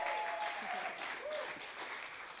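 Scattered audience applause at a live slam poetry festival, fairly faint and steady, with a voice speaking over it.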